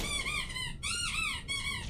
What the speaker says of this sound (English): What is the squeaking?